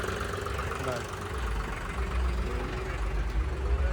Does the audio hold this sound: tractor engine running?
yes